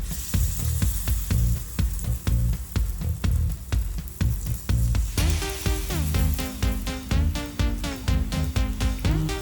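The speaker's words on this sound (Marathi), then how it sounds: "कांदा थोडा परतून घ्यायचा आपल्याला हलका लाल होईपर्यंत" Chopped onion sautés in a hot pan until lightly browned, giving a steady sizzle with rhythmic scraping and stirring strokes of a spoon against the pan, close and fairly loud, with no talking.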